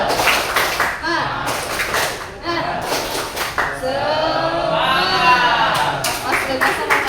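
Classroom of students doing the rhythmic 'tepuk semangat' spirit clap, bursts of patterned hand claps in short groups interleaved with children's chanting voices, close and lively.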